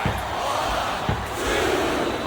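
Broadband roar of an arena crowd in the WWE SmackDown vs Raw 2007 video game, a Batista vs Mark Henry iron man match, steady and loud with occasional thuds.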